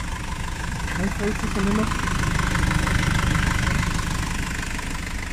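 A Datsun Nissan pickup truck with a 2.4 engine idles at a truck auction, a steady low rumble running throughout beneath nearby talk.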